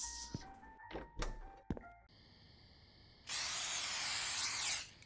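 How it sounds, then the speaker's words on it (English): Rat spray is sprayed in the J-horror night shift game The Convenience Store, giving a loud steady hiss of about a second and a half after some earlier thunks and clicks. "Rat spray."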